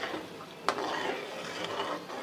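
Semolina roasting in a pan for halwa, with a steady soft sizzle and a few scraping stirs, one sharper clink near the start, no voices.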